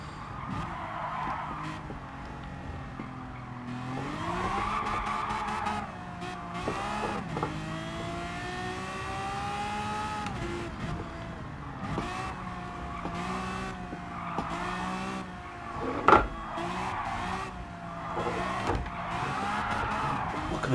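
Lamborghini V12 Vision GT sliding sideways in Gran Turismo 7, its engine droning and rising and falling steadily while tires squeal in long wavering streaks, with a sharp thump partway through; no voices.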